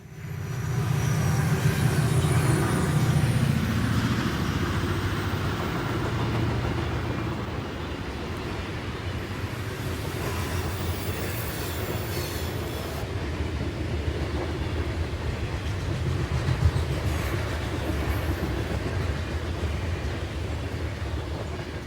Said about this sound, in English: And sweeping around the curve from the opposite direction is R342, headed by two GP40s and a